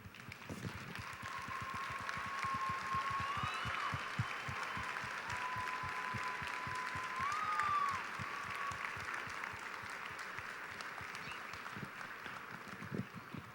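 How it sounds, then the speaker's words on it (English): Banquet audience standing to give a round of applause, a continuous spread of many claps at moderate distance, with a faint tone running faintly underneath throughout. "please stand and let's give them a round of applause."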